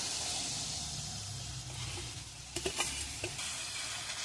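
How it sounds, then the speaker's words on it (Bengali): Masala spices fry with a steady sizzle in a pan for masala paneer, with a few scraping stirs of a spatula breaking through the hiss near the end. "ভালো করে নাড়াতে থাকবো।"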